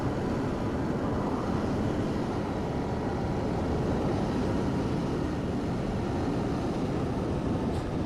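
Steady, broad jet-engine roar from an Emirates Boeing 777 departing London Heathrow in Microsoft Flight Simulator 2020, a continuous even rumble that holds without change, with no voices.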